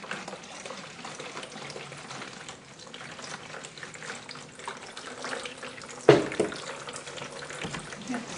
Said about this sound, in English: Sure, you can pour the water in